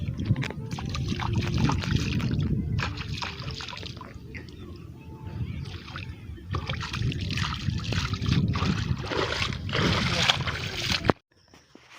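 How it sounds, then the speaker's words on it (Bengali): Hands and feet being washed with water outdoors after cutting rice, with sloshing and splashing in bursts and pauses, close by; ends abruptly. "যাই হাত পাগুলো ধুয়ে নিই।"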